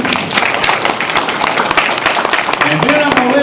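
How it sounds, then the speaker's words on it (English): An audience at a county board of education meeting gives a round of applause: dense, continuous clapping from many hands, loud and close, with voices rising briefly near the end. "Let's give her a round of applause."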